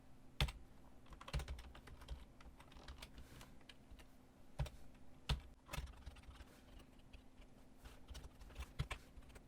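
Someone types on a computer keyboard while building a restaurant menu web page, producing quiet, irregular clicks and bursts of keystrokes with a few sharper taps standing out.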